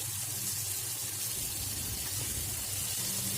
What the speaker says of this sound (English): we're going to cook the potatoes in the oil itself along with onions